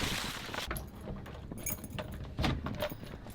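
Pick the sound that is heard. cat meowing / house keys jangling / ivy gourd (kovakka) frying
house keys jangling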